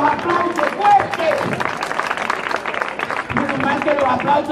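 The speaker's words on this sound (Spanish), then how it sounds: "¡Fuerte con los aplausos!" Audience clapping and cheering for a Cuban magician's stage show in Alcorcón, a steady mid-level roar of applause from a crowd with voices mixed in throughout.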